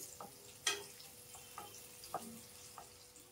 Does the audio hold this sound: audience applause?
no